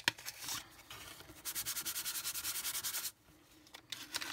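An embossing buddy pouch rubbed briskly over cardstock, a close, quiet scrubbing with a quick run of rhythmic back-and-forth strokes in the middle and a few scattered rubs before and after.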